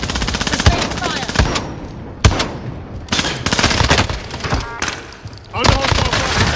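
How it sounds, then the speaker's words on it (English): Sustained bursts of automatic gunfire in a video game, loud and dense, with rapid shots cracking across the whole clip and a few sharper blasts standing out; a voice is faintly mixed in among the shooting. "Under hostile fire."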